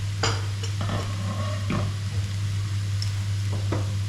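Cooked meat with carrots and onions being stirred into beans in a pot, giving a steady wet scraping and stirring with faint sizzle, a few sharper utensil scrapes, and a constant low hum underneath.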